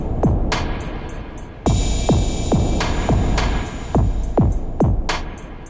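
A reverb effect on the iMPC Pro app, its high filter turned up, applied to a thumping percussive loop with sweeping low drum hits and bright ticking accents that ring out with a washy tail.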